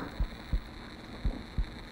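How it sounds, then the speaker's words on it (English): Heartbeat effect in the horror game Minds Eyes: two soft lub-dub double thumps, low and muffled, over a steady electronic hum, with no talking. "I just noticed there's a heartbeat."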